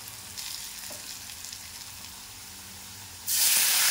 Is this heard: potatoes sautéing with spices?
yes